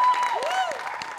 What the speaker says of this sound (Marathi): तरी सुद्धा या कार्यक्रमासाठी एकदा जोरदार टाळ्या